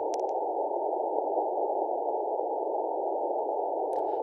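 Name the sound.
radio white noise from ham radio receiver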